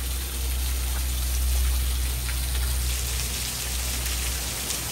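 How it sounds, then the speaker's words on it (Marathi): Heavy rain falls steadily in the hills near Malshej Ghat, a dense continuous hiss with a low rumbling undertone, close and loud, with no voices. "हे बघा कसा पाऊस पडतो."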